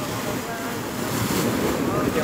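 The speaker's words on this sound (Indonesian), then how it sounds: "Nih ombaknya lagi besar." Big ocean waves roll onto the beach right in front of a seaside lodging at dawn, a steady broadband roar of surf with wind rumble on the microphone, loud and constant with no clear breaks.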